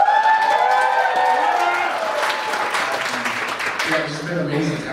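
At a college talent show, a crowd claps and cheers amid loud overlapping voices and some tonal sounds, with applause running throughout under the chatter.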